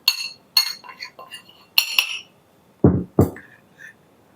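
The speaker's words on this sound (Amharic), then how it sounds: "ይኸው ተመልካቾቼ ቅመሞቹን እዚህ ጨምራለሁ" Cumin, turmeric, ginger, paprika and other spices tipped into a pot for chicken curry, giving a series of light clinks and rattles against metal, with a couple of heavier low knocks partway through.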